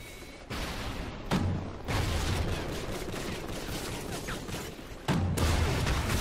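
Gunfire in a Call of Duty Ghosts gun game match, sustained loud automatic shooting with brief gaps between bursts, close and continuous over game background noise.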